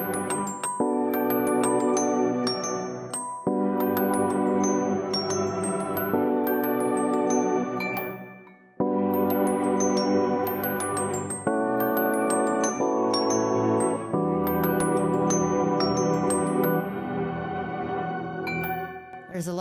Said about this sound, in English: I've sort of got a long droney layer of multiple ambient sort of things